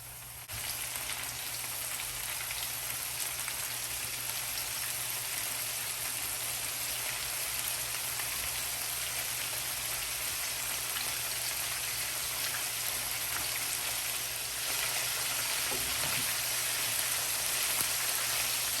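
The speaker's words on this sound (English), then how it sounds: "And I'm gonna fry these for about 3 minutes." Beef pieces deep-frying in hot oil for crispy chilli beef give a dense, continuous bubbling sizzle, loud and steady for the whole stretch, with no voices over it.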